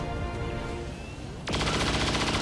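Chain shot gunfire from XCOM 2 erupts halfway through as a dense, loud sustained rattle, preceded by a busy rumbling game ambience with no speech.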